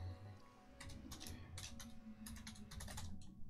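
Someone typing on a computer keyboard while playing Minecraft: quiet, uneven clusters of key clicks over a low background hum.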